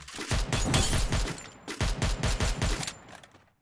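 Rapid bursts of gunfire in a battle royale video game, two dense volleys of close, loud shots with a short pause between them, ending abruptly.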